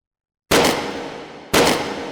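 Two sharp gunshots from a rifle in the VR shooting game H3VR, each a loud, close crack about a second apart with a decaying echo tail, no talk over them.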